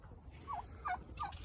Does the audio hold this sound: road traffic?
no